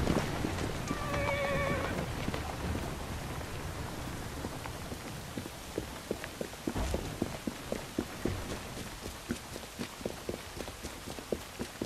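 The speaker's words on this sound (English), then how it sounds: "Who's a good horse? You are." A horse in Assassin's Creed Syndicate gives a short whinny near the start, then its hooves clop in a steady, close rhythm over the sound of rain falling on the street.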